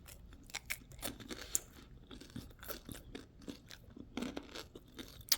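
Someone bites and chews crunchy avocado toast up close, making irregular crisp crunches and soft mouth sounds with short pauses between bites.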